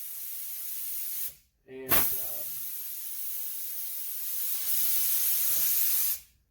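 An automotive paint spray gun set to about 20 psi blasts compressed air in loud, steady hissing bursts, with a short pause between them and a brief spoken word.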